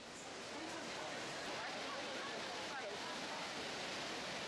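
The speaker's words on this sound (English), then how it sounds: "A body of water 1 kilometer away from the observation deck drops ferociously before my eyes." Niagara Falls roaring about a kilometer off, a dense, steady broadband rush of falling water, close to constant in loudness across the whole stretch, with no voices.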